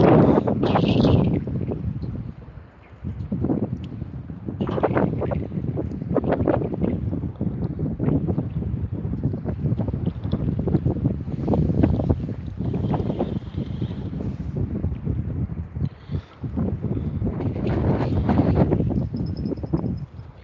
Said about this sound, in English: Southerly wind.